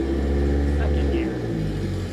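A car engine in second gear revs steadily inside a garage, a loud sustained drone with a slight change in pitch partway through, running the whole time.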